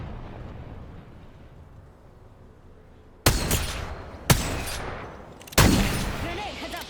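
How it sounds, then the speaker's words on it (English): Video game battle gunfire arrives as three sharp, loud bursts after a few seconds of low rumbling ambience, each shot decaying with a noisy echoing tail. "A second squad is firing at me."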